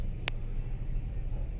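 Low idling drone of vehicles stuck in a Bulandshahr road traffic jam, steady and quiet, broken by one short sharp tick near the start.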